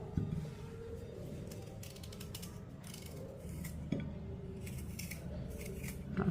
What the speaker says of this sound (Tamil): இப்போ இதையும் நம்ம தோலை சீவிக்கிடுவோம்.